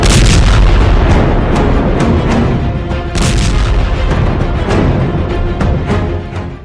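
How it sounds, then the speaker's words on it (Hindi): Heavy, continuous rumbling blasts from Israeli air force airstrikes on Gaza buildings, loud and dense, with repeated booming impacts rolling into one another and no voices. "इजरायल की एयरफोर्स इस वक्त गाजा की इमारतों को मलबे में तब्दील कर रही है। इसमें ज्यादातर धमाके ऐसे हैं"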